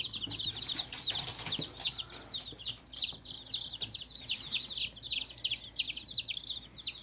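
Young chicks in a temporary brooder cheep in a steady stream of high, rapid peeps, close and clear, with some soft rustling and no talk.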